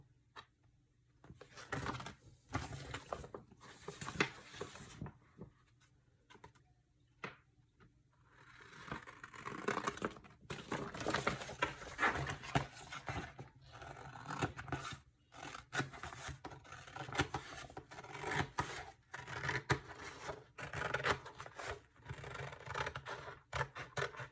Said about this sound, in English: we're just going to cut to get rid of the excess vinyl